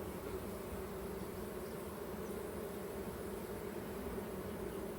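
Honeybees buzzing steadily in an open hive, a dense, even drone with no pauses, fairly faint and close.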